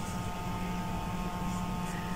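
A steady broadband whir with a low hum runs unchanged throughout, like a nearby electric fan blowing continuously with no talking.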